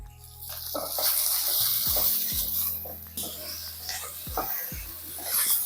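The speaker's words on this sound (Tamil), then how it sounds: "இது அப்படியே வதங்கிட்டு இருக்கட்டும் ஸ்லோ ஃப்ளேம்ல தான் வச்சிருக்கேன்" Okra sautéing with salt and turmeric in a pan over a low flame, a soft continuous sizzle with intermittent stirring scrapes and clinks, fairly quiet, with a voice talking faintly at moments.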